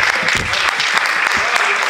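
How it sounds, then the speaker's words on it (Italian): An audience in a cinema in Vestone claps, with dense, even applause filling the short stretch from start to finish. "Un applauso."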